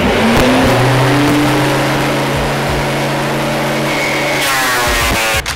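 A Fujiyama PP9012 portable electric wood planer runs at full speed with a steady, loud motor whine and buzzing hum, close by and alone, holding constant before cutting off at the end.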